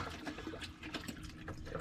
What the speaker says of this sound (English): Go ahead and pour that in there. You can pour it over the meat.